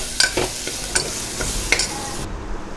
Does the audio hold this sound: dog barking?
no